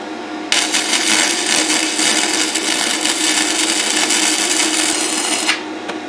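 A Vevor 130 amp inverter welder lays a MIG weld, a steady close crackling hiss that starts abruptly and runs for about five seconds before cutting off, with no voices.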